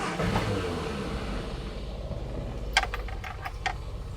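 A mini pickup truck with a charging fault and a noisy clutch is fired up, its engine running at a steady low rumble with a few light metallic clicks partway through.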